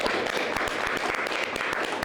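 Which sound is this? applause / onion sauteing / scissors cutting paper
applause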